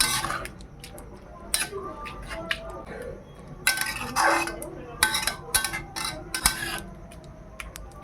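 Carrot halwa being stirred with milk in a pan, a spoon scraping and clinking against the metal in repeated irregular strokes, close and fairly clear under soft background noise.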